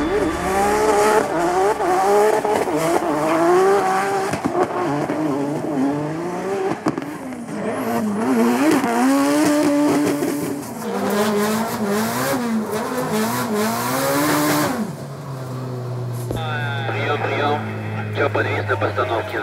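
A race car at full throttle on a circuit in Japan, its engine screaming and rising in pitch through gear changes while the tires squeal, loud and close, under continuous commentary, before the note drops to a lower steady tone.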